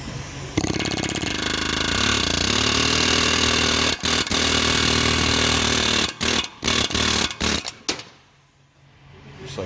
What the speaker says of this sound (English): So stick my chisel right in here.